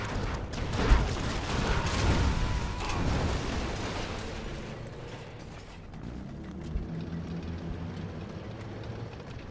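A TNT blast in a real-time strategy match, a big low rumbling burst near the start that fades into a lingering crackle and mechanical din for several seconds, loud and alone without talk.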